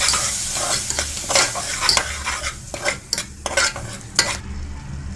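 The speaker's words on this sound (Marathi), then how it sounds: "हे चांगलं परतून घेऊया." Coarse ground masala paste sautéed with cooked onion and tomato for a Maharashtrian gavar and vatana bhaji, with steady close stirring and scraping in the pan over a soft sizzle, broken by sharp utensil clinks.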